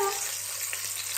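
Food fries and sizzles steadily in a hot pan in a kitchen, a continuous close crackling hiss with a brief stir or clink near the start and no talk.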